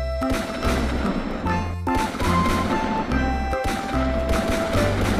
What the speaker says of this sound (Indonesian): Wow, ada pistol mini Magnum.